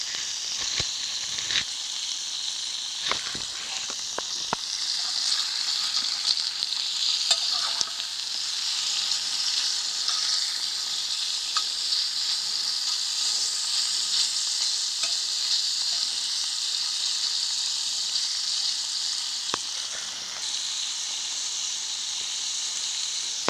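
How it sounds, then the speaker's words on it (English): Salt pork, onions and apples frying in a pan over a mountain campfire, with a steady close sizzle and hiss broken by occasional scraping stirs and clicks. "Then I'm going to take that out and I'm going to cook my onions and my apples."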